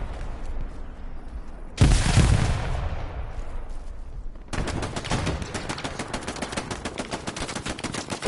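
A PPSh submachine gun in Hell Let Loose rips out a long, fast automatic burst that fills the second half, preceded by a heavy grenade-like blast and scattered distant battlefield fire.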